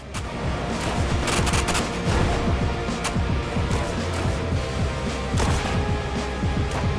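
Heavy gunfire in the game Badlands Crew, dense overlapping bursts and sharp cracks with booms, continuous and loud throughout.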